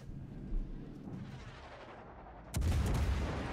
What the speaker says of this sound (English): And there's his salvo from hiding that, of course, again, we have been anticipating.